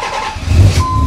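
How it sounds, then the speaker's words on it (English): A Nissan car engine, a Project Z, starts up with a loud, close, low rumble that catches and settles into a steady running drone over about a second. "I'm gonna turn my car on just to show you"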